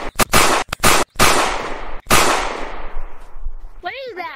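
Video game gunfire: a rapid string of loud, close shots with sharp onsets and ringing decays, two long reverberant blasts, then a faint tail and brief warbling sounds at the end.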